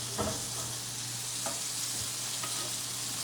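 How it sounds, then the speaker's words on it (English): Little pearl onions caramelizing in a hot pan give off a steady, dense sizzle, broken by a few soft stirring knocks, with no one talking. "little pearl onions are starting to caramelize a little bit more"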